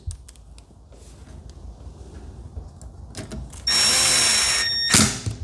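A power driver spins T27 or T25 Torx screws while reassembling the cover on a Husqvarna 240 chainsaw, giving one loud, steady, close whir of a bit more than a second against quiet workshop background.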